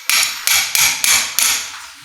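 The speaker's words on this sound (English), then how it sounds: "I'll hammer this down into the joint" A hammer drives a dilator into a model of the SI joint, five sharp, evenly spaced metallic strikes about a third of a second apart, close and loud, each with a short ringing decay and no voices.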